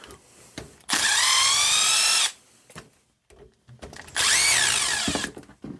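A power tool whines loudly in two sustained bursts of about a second each while removing the weight from an RC truck wheel, with aluminum parts and threaded axles on a Redcat Vertex 6 or Rockslide, quiet clicks and handling in the gaps between.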